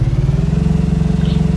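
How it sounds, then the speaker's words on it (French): Boat engine in a zombie apocalypse video game, a loud, close, steady throbbing drone with a regular pulsing rhythm throughout, no voices over it. "le bruit du bateau est un peu fort"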